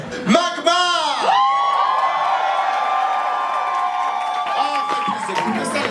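A crowd at a drag show finale whoops and cheers loudly for drag artists. Sustained shouts and high cheers fill the whole stretch, with clapping and voices mixed in.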